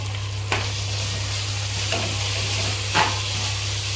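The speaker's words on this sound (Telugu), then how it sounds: "ఒక 2 టేబుల్ స్పూన్స్ వరకు అల్లం వెల్లుల్లి పేస్ట్, దీంట్లోనే కొద్ది కొత్తిమీర పుదీనా కూడా వేసుకొని బాగా ఫ్రై చేసుకోవాలి" Ginger garlic paste with coriander and mint frying in a pan for tadaka biryani, a steady close sizzle with a low hum underneath and a few brief stirring scrapes.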